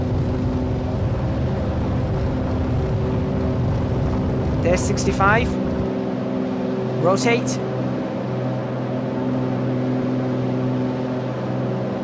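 A JustFlight PA-28R Arrow III single-engine plane in X-Plane 11 roars through its takeoff run with a steady, loud droning engine note, while someone talks over it throughout.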